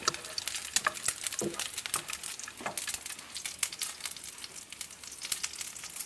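Chicken pieces fry in oil on a gas stove with a busy, crackling sizzle that pops and spits irregularly, moderately close.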